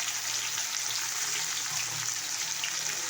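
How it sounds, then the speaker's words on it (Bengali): Spices with turmeric and fried onion sizzling in a pan while being stirred, a steady, soft hiss that runs evenly throughout with faint low scraping underneath and no talk. "এবার নাড়াচাড়া করলাম"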